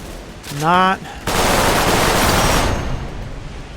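Video game weapon build firing a sustained burst of gunfire for over a second, loud and dense, following a brief spoken exclamation.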